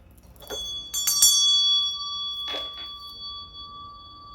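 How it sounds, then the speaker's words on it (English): A meditation bell struck a few times, bright metallic strikes followed by long, clear ringing tones that slowly fade, with no talk over it. "I'm going to ring my meditation bell"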